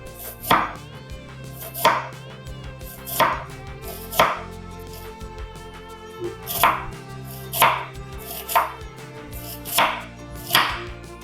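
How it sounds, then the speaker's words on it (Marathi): An onion is sliced thinly lengthwise with a knife on a board, giving about ten crisp, evenly spaced chops, each a sharp thud with a short tail, alone and close. "मी एक कांदा घेतलाय तो आता आपण उभा पातळ चिरून घेऊ"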